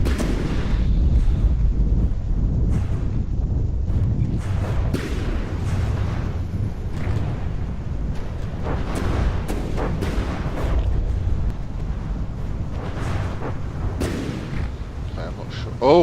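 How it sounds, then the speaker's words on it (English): Incoming gunfire and artillery barrage in an airborne combat video game, a dense rolling stream of booms and cracks with sharp transient hits over a steady rumble, heard under ongoing commentary. "taking some quite substantial incoming fire, managing to dodge all of it thus far"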